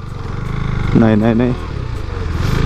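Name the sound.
KTM Duke 390 motorcycle riding off-road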